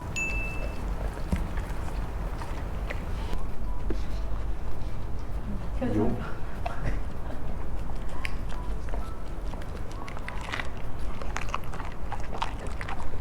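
Dogs chew and bite pieces of meat and vegetables up close, with wet, irregular crunching and mouth sounds, while people talk nearby.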